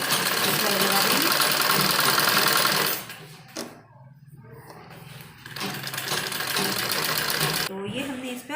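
Sewing machine stitching a blouse runs loud and steady, pauses briefly mid-way, then resumes its continuous whirring hum at close range.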